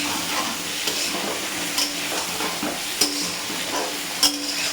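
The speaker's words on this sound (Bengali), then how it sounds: "এবার এটাকে ভালো করে ভেজে নিই" Fish coated with turmeric frying in a pan, a close continuous sizzle broken by periodic scraping stirs and light clinks.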